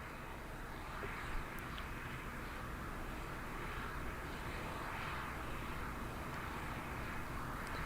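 Modified Boeing 747 shuttle carrier aircraft with four Pratt & Whitney gas turbine engines, heard at Kennedy Space Center as a distant, faint, steady jet roar holding evenly throughout.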